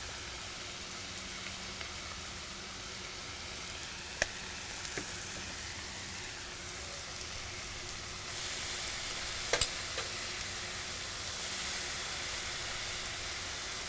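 Chopped brisket and vegetables sizzle steadily on a Pit Boss grill, a soft continuous frying hiss at a moderate distance, with a few faint clicks and stirring taps and no talking.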